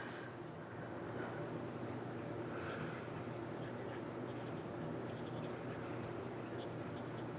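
Extra fine TWSBI Eco T fountain pen scratching steadily across paper, a continuous close, quiet scraping texture with faint breaths over a low room hum.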